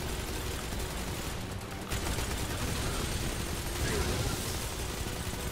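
Gunfire from a gun in the Destiny 2 beta video game, dense rapid bursts of shots forming a continuous loud crackle with a brief dip, then resuming steadily.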